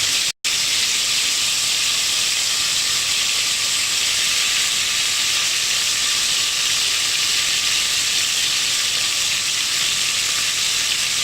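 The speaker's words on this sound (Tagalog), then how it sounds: "So I'll come back to you once all the beef is seared." Beef for caldereta searing in a hot pan, giving a loud, steady, close sizzle and hiss that runs almost unbroken after a brief dropout at the very start.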